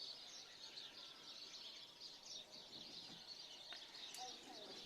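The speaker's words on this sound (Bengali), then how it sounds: "পাখির ডাক শুনতে পারতেছেন মেবি" Birds call faintly outside a window of a UK rented home, thin chirps over a steady, hissy background, distant and quiet throughout.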